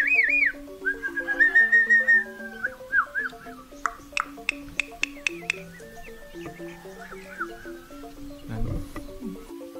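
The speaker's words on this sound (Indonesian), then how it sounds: "Dan ini adalah burung jalak nias." A Nias hill myna whistles a rapid series of clear, varied notes and slides, with sharp chirps and squeaks mixed in, fairly close and lively.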